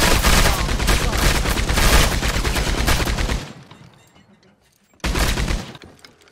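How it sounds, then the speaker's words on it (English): A Gatling gun fires in Red Dead Redemption 2, a loud, dense continuous burst of rapid shots for about three seconds, then a brief lull before another intense burst resumes. "if you start shooting at him with a Gatling gun"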